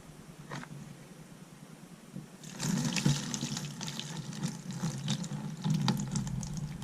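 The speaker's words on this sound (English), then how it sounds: "Here's the sludge. And here is the pour. Pour it right into here." Muddy rock tumbler sludge pours out over stainless steel pin media and coins into a container. A quiet start gives way to a steady, close, wet splashing pour that runs for several seconds.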